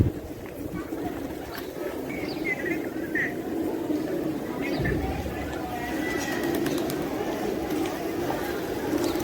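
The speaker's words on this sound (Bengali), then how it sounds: "এই যে জ্বালানি কবুতর, হ্যাঁ এই যে এগুলো হচ্ছে জ্বালানি কবুতর।" Feral pigeons coo softly at the Shah Jalal shrine courtyard, their low murmuring calls repeating amid a busy outdoor hum, with people's voices in the background.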